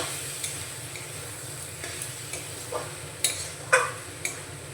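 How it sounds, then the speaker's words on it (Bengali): Minced soybean cooks with spices in a pan: a low, quiet sizzle runs under scattered spatula taps and scrapes, with a few sharper clinks toward the end. "এই সোয়াবিনটা এখন দিয়ে দেব মশলার মধ্যে। পরিমাণ মতো লবণ দিয়ে দিচ্ছি। ভালো করে এখন কষিয়ে নেব।"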